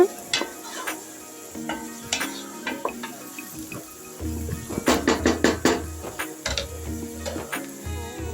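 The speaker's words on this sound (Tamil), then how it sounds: "நல்லா வதக்கி விட்டுக்கிட்டே இருங்க" A spoon stirs and scrapes ginger-garlic paste in a non-stick pan for chicken biryani, making irregular clattering knocks and scrapes over a faint sizzle, busier and denser midway, close by with no talking.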